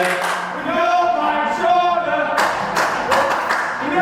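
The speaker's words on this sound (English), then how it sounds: "Listen to that crowd" Wrestling arena crowd at a live show reacting to the wrestlers, a loud continuous roar of voices with bursts of shouting and some clapping, with talk mixed in.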